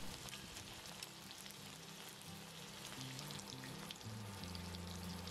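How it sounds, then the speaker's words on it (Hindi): Paneer frying in a little oil, a dense continuous crackling sizzle at low level, steady from start to finish with no talking. "इसके बाद थोड़े से ऑयल में पनीर को फ्राई करते रहना है"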